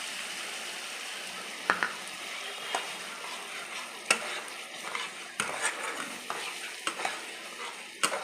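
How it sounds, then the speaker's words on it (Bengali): Spice paste with ground cashew sautéing in oil in a pan, a steady sizzle broken by repeated scraping stirs and light clanks of the spoon against the pan, close and fairly loud. "যতক্ষণ না মশলা থেকে তেল ছাড়ে ততক্ষণ আমাকে ভালো করে সব দিয়ে কষিয়ে দিতে হবে।"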